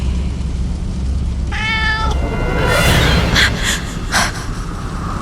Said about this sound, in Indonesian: ketika aku dengar seperti ada suara anak kucing.